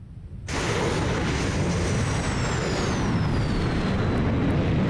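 An F-14 jet in DCS roaring away after a carrier deck launch: a sudden loud broadband engine blast that cuts in and then holds steady, with a faint high whine sliding slowly downward as it recedes.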